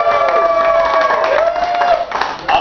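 Comedy-bar audience breaking into cheers, whoops and clapping, a dense, steady crowd roar that carries through the whole stretch with a brief dip near the end.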